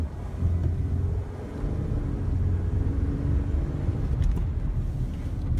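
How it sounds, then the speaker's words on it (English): A car's engine drones as the vehicle is driven, heard from inside as a steady low rumble with a few faint rattles near the end and no distinct shifts. "Need to go ahead and see if it's going to shift out on all the gears."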